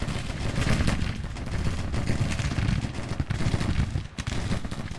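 Massed needle gun rifle fire crackles continuously across a Civil War battlefield in Grand Tactician: The Civil War. Dense volleys and scattered shots blend into a rumbling, distant-sounding din.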